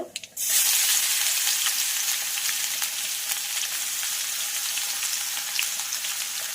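Wet curry leaves and ginger-garlic paste hit hot oil with a sudden burst of loud, spattering sizzle that settles into continuous close frying crackle for several seconds.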